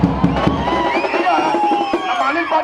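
A crowd of fans cheering and whooping loudly for Kannada film star Shivarajkumar, dense shouting and applause close up with voices rising and falling throughout.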